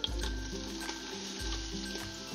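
Onion sautéing in olive oil with marrow bones in an Instant Pot on sauté mode gives a faint, steady sizzle under a low electric hum, with soft stirring in a brief close stretch.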